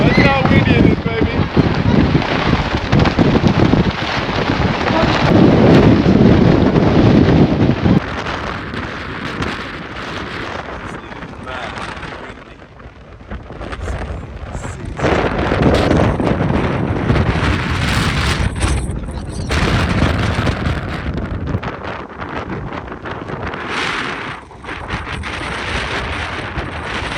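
Extreme wind buffets the microphone on the coast at Land's End, UK, a loud, roaring rush that surges and eases in gusts throughout.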